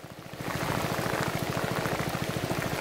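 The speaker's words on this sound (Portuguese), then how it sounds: "Pra cá tá chovendo" Steady rain falls over Lake Amanã in the Amazon, a dense, even hiss of drops with a rapid pattering texture that swells after a quiet start and holds constant, close and fairly loud, with no voices.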